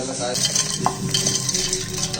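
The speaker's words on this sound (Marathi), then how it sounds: "आता याचा आवाज ऐका। आवाजावरूनच कळतं शेंगदाणे किती छान भाजलेले आहेत" Cooled roasted peanuts handled and stirred in a container, a dry rattling and rustling that is close and moderately loud, with no talk over it.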